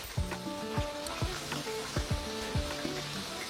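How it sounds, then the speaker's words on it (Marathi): Puris deep-frying in oil over a low flame give a steady close sizzle and bubbling, with repeated soft thumps and clatter of a utensil against the pan. No one speaks. "मंद आचेवरती ह्या पुऱ्या आपल्याला तळून घ्यायच्या आहेत"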